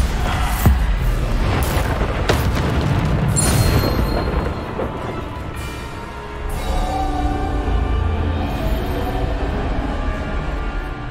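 Bombarda spell explosions in the video game Hogwarts Legacy, with loud booming blasts and rumbling debris layered over a dense, continuous game soundscape.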